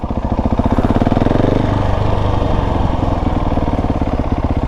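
A KTM 690 motorcycle engine is held under light throttle to keep the front wheel up in a wheelie, a loud, close, pulsing single-cylinder thrum that stays steady throughout.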